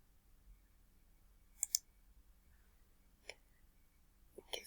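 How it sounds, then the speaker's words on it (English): A few faint computer mouse clicks while saving settings in Bing Webmaster Tools, a quick double click followed later by single sharp clicks in a quiet room. "Click on Save Changes."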